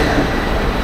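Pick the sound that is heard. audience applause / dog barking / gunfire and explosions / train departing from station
train departing from station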